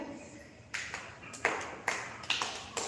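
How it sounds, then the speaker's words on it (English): A few scattered claps from a small class in a live online lesson, applauding a student named Divya after a correct answer; sparse, uneven hand strikes at moderate level over a quiet room. "Clap to Divya."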